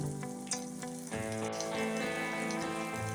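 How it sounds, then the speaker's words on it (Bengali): Onions frying in a pan for aloo dum after ginger-garlic paste, turmeric, cumin, chili powder and salt go in, a steady crackling sizzle with a few soft clinks and stirring knocks, close and continuous with no talking. "পেঁয়াজটা লাল লাল করে ভেজে এখন সব মশলা এক এক করে দেবো"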